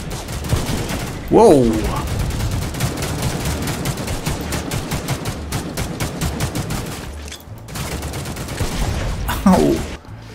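Sustained automatic gunfire in The Mean Greens video game, a loud, evenly spaced rapid stream of shots that runs almost unbroken. A player exclaims over it twice.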